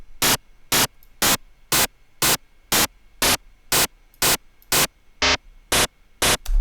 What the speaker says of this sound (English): Other ways you would just use the white noise waveform.